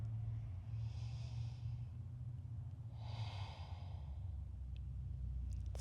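Slow, deep breaths from a breathing exercise rise and fall twice, each one a long airy exhale or sigh over low, steady room hum.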